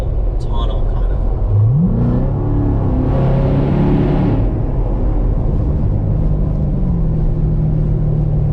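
A Chevrolet Corvette Grand Sport C7 engine rises in pitch, then holds a steady, throaty rev with a deep rumble throughout. A brief surge in the middle adds a rougher, louder growl.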